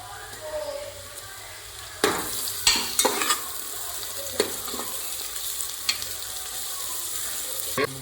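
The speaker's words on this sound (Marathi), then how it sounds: "आता अद्रक लसूणची पेस्ट टाकू" Ginger garlic paste hits hot oil in a pan while cooking veg pulao, giving a steady close sizzle with a few sharp scraping stirs and clinks of the spoon.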